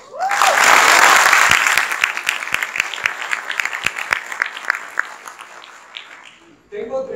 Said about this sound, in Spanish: así que es un fuerte aplauso.